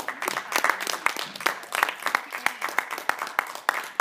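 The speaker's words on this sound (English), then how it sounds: "Let's give a round of applause to our second speaker for the opposition" A debate audience applauds a speaker for the opposition, a loose patter of separate claps near and distinct, with some talk mixed in.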